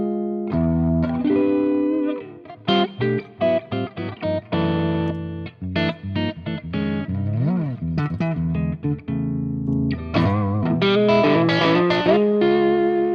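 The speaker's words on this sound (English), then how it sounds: "I use the fat preamp only to give a different color, bit distorted" Electric guitar through a Fractal fat preamp with light distortion, played as a loud, close phrase of picked notes and sustained chords with a short bend near the middle and a brief pause before the final chords.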